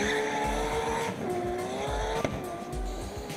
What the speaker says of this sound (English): the ferocious, tar-tearing launch of this wild skyline.